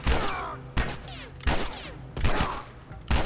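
Repeated bursts of gunfire in The Last of Us, loud and close, with several sharp shots spaced about every second over a busy game soundscape.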